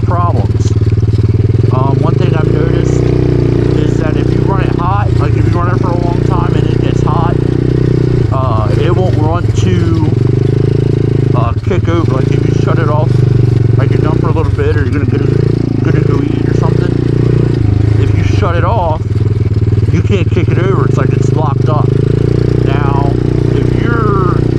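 A budget Chinese dirt bike ridden as a pit bike, its small single-cylinder engine buzzing steadily and rising and falling in pitch with the throttle, close by and loud, with a voice talking over it.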